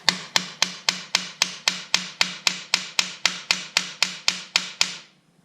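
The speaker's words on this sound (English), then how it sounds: "And then you just start tapping." Hammer taps on a clamped engine part held with large vice grips, about fifteen sharp, evenly spaced metallic strikes close by, each ringing briefly, ending in quiet.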